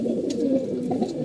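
Pet pigeons, several of them molting, coo close by in low, throaty rolling murmurs that repeat steadily through a short stretch with no talking.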